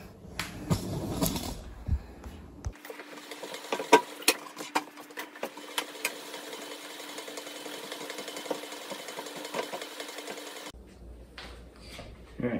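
A honey extractor spins a single frame during a first honey extraction, a steady mechanical whir with rattling clicks that carries on for several seconds, loud and close.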